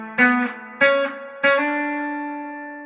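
A country-style guitar intro lick over E: three sharp plucked notes spaced evenly, the last one left to ring out, played solo with no talking.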